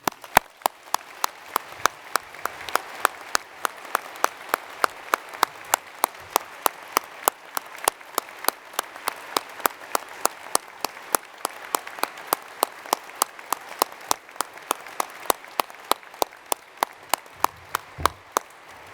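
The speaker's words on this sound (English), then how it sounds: "give us as strong and positive an applause for this graduating class of 2019" Steady, evenly paced claps ring out one after another at a university summer graduation, honouring the graduating class of 2019, sharp and fairly close, with no talk.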